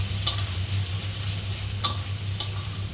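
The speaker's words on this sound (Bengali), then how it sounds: "তারপর দিয়ে বেশ কিছুক্ষণ নাড়াচাড়া করে লাল লাল করে ভেজে নেব।" Chopped onion and garlic frying in a pan, a constant close sizzle over a low hum, with three brief scraping stirs standing out.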